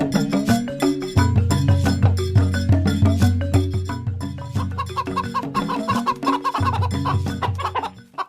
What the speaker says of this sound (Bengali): এই লোকটি তো দেখছি অনেক মুরগিকে খাবার খাওয়াচ্ছে।